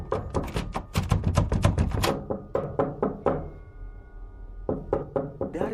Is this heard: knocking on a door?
yes